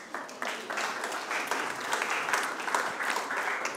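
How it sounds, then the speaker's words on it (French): Moderate applause from an audience after a fintech startup pitch at a conference, a fairly even spread of clapping with small bursts, heard at some distance in a hall. "On peut applaudir"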